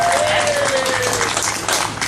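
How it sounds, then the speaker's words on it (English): Applause from an audience at an opening announcement honoring a committee woman who prepared the food, a dense steady wash of clapping with a faint tonal whistle drifting across the first second. "An extra round of applause"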